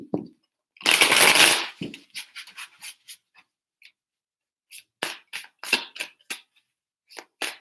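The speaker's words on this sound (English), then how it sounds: "I need to shuffle that again." Tarot cards shuffled by hand: one long riffling burst, then a run of short, crisp card snaps and flicks in separate clusters, close and fairly loud with quiet gaps between.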